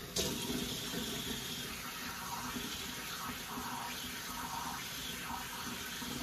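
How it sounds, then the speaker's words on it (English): Tap water runs steadily into a sink while a face is rinsed after shaving, a continuous close splashing flow with slight shifts in tone and no speech. "I'm just gonna go ahead and rinse off real quick"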